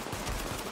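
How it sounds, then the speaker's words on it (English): Gunfire from a pistol crackles in quick succession during a firefight in The Division, a short and fairly dense burst of shots. "That's a pistol, man. You just got dealt with a pistol."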